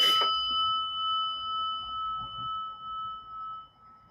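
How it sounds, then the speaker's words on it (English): A single meditation bell is struck once, ringing out clear and close, then sustains a pure, shimmering tone that slowly fades over several seconds in a quiet room. "And listen to the bell."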